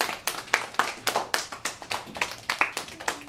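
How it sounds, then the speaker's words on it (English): A small classroom group claps for classmates, a sparse, uneven patter of about a dozen distinct hand claps over a few seconds, fairly close and moderately loud, with no talking. "let's give them a round of applause."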